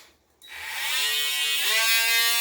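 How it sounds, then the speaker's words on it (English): A power cutting tool bites into a wall to open a hole for a dog waterer install, starting abruptly after a brief quiet and holding a loud, steady high-pitched whine that dips slightly in pitch partway through. "I went and got my cutting tool. What I'm going to do now is cut out a little bit of a space"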